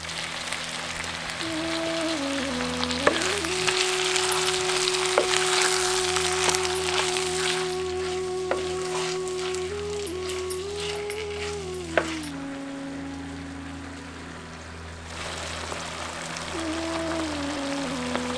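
Chicken pieces tossed with turmeric and salt sizzle steadily in a hot kadai while being stirred, a close, continuous crackle with scraping, and a faint tonal hum running underneath.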